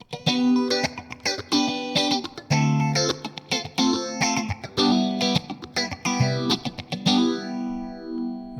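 Electric guitar played through a phaser on a Fender Tone Master Pro, strummed chords and picked notes with a sweeping, swirling tone, loud and alone.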